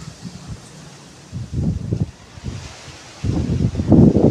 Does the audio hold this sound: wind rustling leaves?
yes